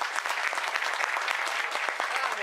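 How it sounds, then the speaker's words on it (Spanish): Clapping from the crowd at a livestock auction in Tres Isletas, a dense, steady burst of applause that stays even throughout at moderate, somewhat distant loudness with no voices over it. "Necesito un fuerte aplauso"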